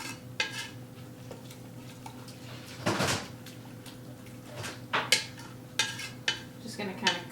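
A spoon stirs venison Bolognese sauce in a pot over low heat, making sparse clinks and scrapes against the pot with a few sharper knocks over a steady low background hum.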